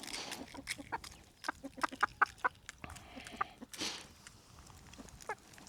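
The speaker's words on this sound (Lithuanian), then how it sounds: "Vištės, vištutės, vištės, vištauskinės." Chickens cluck and squawk close by on a farm in a busy run of short, uneven calls, with a few louder squawks standing out over quiet background noise.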